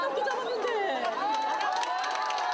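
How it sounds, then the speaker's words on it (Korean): At a public appearance by former Korean president Roh Moo-hyun, a packed crowd erupts in excited cheering and shouting, with scattered clapping rising beneath the overlapping voices. "노무현 전 대통령의 모습이 보이자 박수가 터져 나옵니다"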